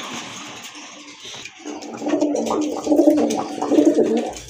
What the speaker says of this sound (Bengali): এখানে কিন্তু দুইটা কবুতর আছে দেখেন